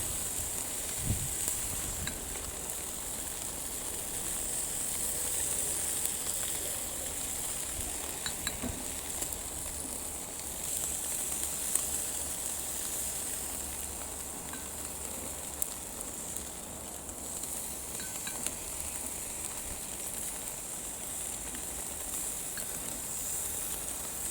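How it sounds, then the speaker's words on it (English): Beef skewers cooking over a hot grill fire, a soft, steady sizzle and hiss with occasional faint pops, quiet and continuous for a long stretch without talk. "while these continue to cook"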